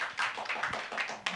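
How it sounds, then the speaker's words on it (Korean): A short burst of clapping from teachers at a church teacher-training lecture on developmental psychology: a handful of uneven, fairly close claps over little more than a second. "큰 박수를 격려하십시다"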